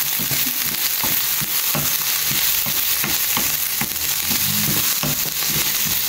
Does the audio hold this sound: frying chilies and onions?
yes